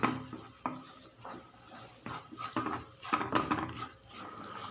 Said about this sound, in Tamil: இப்போ கைவிடாமல் நல்லா கலக்கிட்டே இருக்கணும்